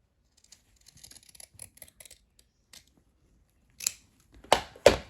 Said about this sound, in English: I'm going to clip into that point with my scissors